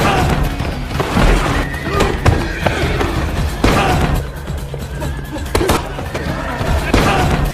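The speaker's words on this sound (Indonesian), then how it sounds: "John Wick pun segera kabur dengan menaiki kuda" Horses whinny and snort inside a stable during a tense action scene in John Wick 3, loud and close, mixed with hoof clatter, thuds and impact noises throughout.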